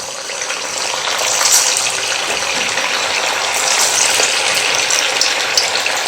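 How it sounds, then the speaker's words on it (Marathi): Tur dal vadas drop into hot oil and fry with a loud, steady, dense sizzle and bubbling hiss that holds evenly throughout, up close and with no voices. "तेल आपलं चांगलं गरम झालेलं आहे आता आपण यामध्ये हे वडे सोडूयात"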